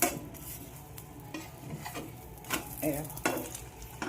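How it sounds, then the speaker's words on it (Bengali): A roti frying in a little oil in a pan, soft sizzling broken by spatula scrapes and clinks against the pan at irregular intervals, close and fairly quiet. "পিঠটা একটু তেল দিয়ে দেবো, দিয়ে কড়া করে ভাজবো একটু।"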